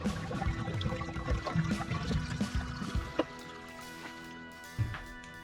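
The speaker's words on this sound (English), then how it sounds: "rinse off the soap and give these backpacks a nice cold rinse" Water splashing and pouring as Osprey backpacks get a cold rinse in a tub after a Nikwax Tech Wash, a steady wet trickle with a few louder sloshes and drips close by.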